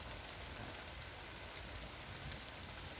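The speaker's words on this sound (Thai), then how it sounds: "เช้าวันนี้ก็มี ฝนตกปอแปะปอแปะเนาะ" Light morning rain falling in a rural Thai garden setting, a soft, steady, faint patter of drops on surfaces that continues evenly without any voices.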